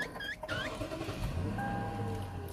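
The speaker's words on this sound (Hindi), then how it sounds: "ऐसा कोई मसला नहीं है गाड़ी स्टार्ट करने में" A Lexus, after a crank sensor replacement for occasional late starting, cranks briefly and catches into a low, steady idle hum close by, after a short whirring noise at the start.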